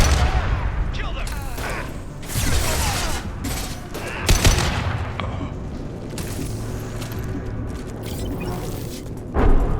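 Heavy gunfire in the Mass Effect 2 video game, bursts of shots and booms crackling nearly throughout under a dense, loud battle mix with voices talking over it.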